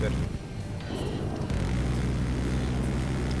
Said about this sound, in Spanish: Avión, avión.